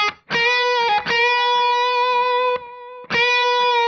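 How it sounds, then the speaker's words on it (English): Overdriven electric guitar with a delay effect in the amp's front end rings out sustained notes with echoing repeats trailing behind each strum, loud and up front, no speech. "Now if we add some delay."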